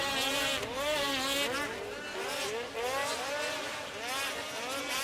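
Polaris racing snowmobile engines whine past on a Fargo race track during an ISOC pro qualifier, rising and falling revving tones under continuous announcer commentary.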